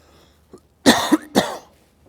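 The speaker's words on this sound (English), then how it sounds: "So I will be coughing throughout the presentation" Two harsh coughs close to the listener, one right after the other, following a small throat sound, from a speaker during a conference keynote.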